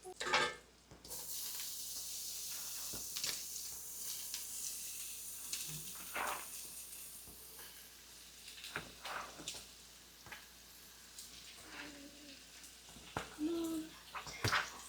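Onions and mushrooms sizzle in a hot pan just after a deglaze, a steady close frying hiss with scattered crackles and the clatter of stirring throughout.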